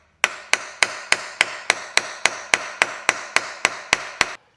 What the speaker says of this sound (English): Give it a few taps with the hammer.